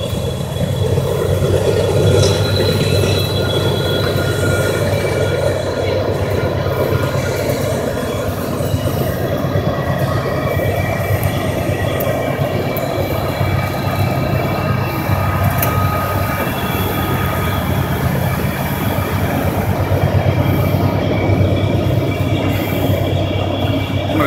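A westbound intermodal freight train working hard, its heavy continuous rumble and grinding roar holding steady and fairly loud throughout, with faint wheel squeal above it and no voices.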